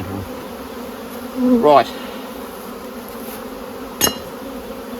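Bees from the Crossmaglen hives buzzing as the hive boxes are moved in November: a steady low drone with one insect whining past up close, plus a brief thump and a short spoken word.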